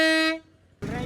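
A train horn fitted to a vehicle blasts one loud, sustained, rich harmonic tone that cuts off abruptly, followed by a short pause and then a burst of broadband noise nearby.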